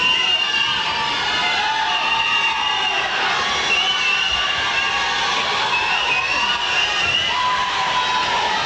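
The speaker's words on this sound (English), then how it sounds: "You'll hear many of the teammates of these swimmers cheering their swimmers on." Teammates shout and cheer on swimmers at a 1991 Eastern Canada Cup swim meet, a continuous loud wash of overlapping young voices echoing through an indoor pool hall.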